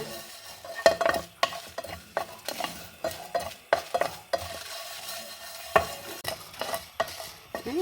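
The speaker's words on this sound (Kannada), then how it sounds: "ಸಾಸಿವೆ ಹುಟ್ಟುವಷ್ಟೊತ್ತು ಹುರ್ಕೊಂಬ." Mustard, coriander, cumin and ajwain seeds dry-roasting in a pan for a brinjal dish, with a spoon scraping and rattling the seeds in quick irregular strokes, close, with faint popping.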